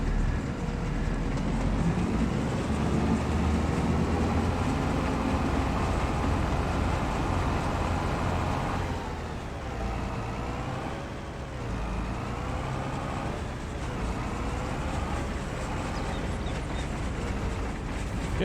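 A freight train rolls steadily along its track in the Farming Simulator 22 video game, a continuous rumbling rail drone with faint clatter that dips slightly midway and carries on without any talking.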